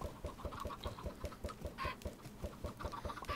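Chickens in the video game Minecraft cluck in a quick, steady, repeated pattern, faint and without voices.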